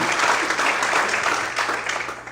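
A church congregation keeps clapping during an evening service, a thick wall of applause that stays full before thinning and fading toward the end.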